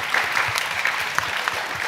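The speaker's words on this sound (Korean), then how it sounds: "박수 한번 부탁드리겠습니다." Audience applause at a media strategy forum panel, a dense steady patter of many hands clapping together for the full two seconds, fairly close and even in level.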